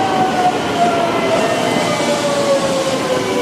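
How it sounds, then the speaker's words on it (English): The Haruka limited express to Kyoto runs along the track, a steady close rumble of wheels and rails with a sustained high whine sliding slowly downward in pitch, no voices. "This is the gnarly express I'll be taking to Kyoto this morning. It's called the Haruka."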